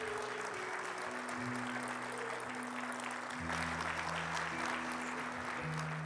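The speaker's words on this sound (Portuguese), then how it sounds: "Vamos aplaudir Jesus" Church congregation applauding during a worship service, steady dense clapping heard alongside sustained music or organ-like tones underneath, no clear talk over it.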